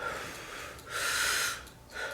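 A close, breathy nasal blast, two bursts of air forced through the nose, loud and near.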